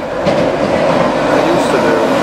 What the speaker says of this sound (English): a Virgin Express going straight through, non-stop, straight to York.